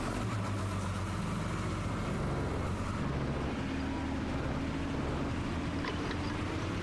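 A cold tractor engine idles and drives slowly in Farming Simulator 25, a steady low rumble with a slight pitch change partway through.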